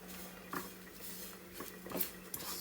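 Breadfruit masala with garam masala being tossed in a hot skillet, giving a few soft clinks and scraping knocks of utensil against pan at irregular intervals, fairly quiet and close.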